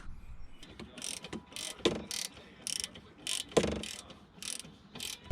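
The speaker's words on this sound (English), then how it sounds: "I'm just going to put the guides in here and torque it down to 21 foot-pounds" A torque wrench ratchets in short bursts while tightening brake caliper guide pins on a Mk4 Volkswagen GTI/Jetta front brake, several quick clicking runs with brief pauses, close and crisp.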